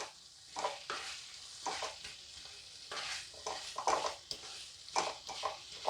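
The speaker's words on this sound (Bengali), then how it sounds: "এখন আমি এই মশলার মধ্যে ভেজে নেওয়া ওলের টুকরোগুলোকে দিয়ে দিলাম।" Fried elephant foot yam pieces tossed and stirred into a spice paste in a pan, giving soft scraping stirs and light sizzling in irregular bursts, close and fairly quiet, with no talking.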